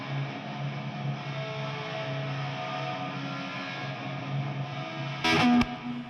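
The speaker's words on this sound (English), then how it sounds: "I did my best to try to copy and just emulate what the reverb sounded like on that original recording" Soloed reverb return emulating the Sunset Sound echo chamber on a Van Halen-style electric guitar: a dense, sustained wash of tone with ringing notes fading into one another, broken near the end by a brief, sharp noisy burst.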